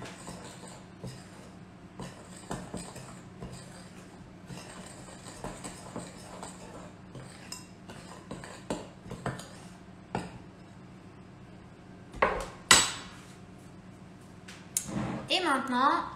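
Dry ingredients for madeleines are stirred together in a bowl with utensils, light scraping and soft clinks in a kitchen, with louder clatters of tools near the end.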